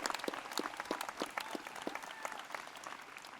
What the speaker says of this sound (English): Let's give each other a round of applause for getting through some of the tough times and landing here today at SRJC at our 100th anniversary.